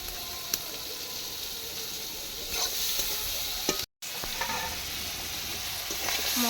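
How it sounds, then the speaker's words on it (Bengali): Prawns fry in a pan with chili, salt and spices, making a steady, close sizzle with occasional stirring clicks and a brief cut partway through. "মা প্রথমে হচ্ছে লঙ্কা নুন সব মশলা ফসলা দিয়ে চিংড়ি মাছটা ভেজে নিচ্ছে"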